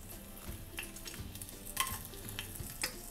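Dried red chillies fry in hot oil with a quiet, steady sizzle, broken by occasional soft stirring scrapes close by.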